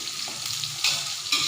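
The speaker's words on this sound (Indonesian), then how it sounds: "Habis goreng kacang tanah, kita goreng-goreng ini cabenya ya." Chili peppers fry in hot oil in a pan for sambal pecel, a close, steady crackling sizzle with occasional sharper pops and stirring, no voices.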